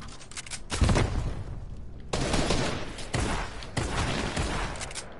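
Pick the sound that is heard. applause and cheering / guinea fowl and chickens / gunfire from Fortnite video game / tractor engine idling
gunfire from Fortnite video game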